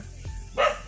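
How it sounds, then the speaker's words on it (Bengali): One sharp, fairly close bark from a dog in a rural village rises after a brief low rumble and cuts off quickly. "এই যে কুকুরটা ঘেউ ঘেউ ঘেউ ঘেউ করতেছে,"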